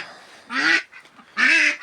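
A crested duck drake gives two loud, harsh honking quacks close by, each call lasting about a quarter second and separated by a short pause.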